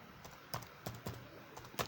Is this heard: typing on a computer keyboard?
yes